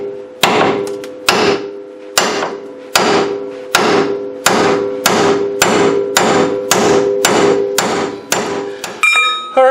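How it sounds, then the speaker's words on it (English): A hammer strikes a lower ball joint on a Dodge Dakota, about a dozen loud ringing metallic blows in a steady rhythm, each decaying before the next, close and without talk. "We take our hammer."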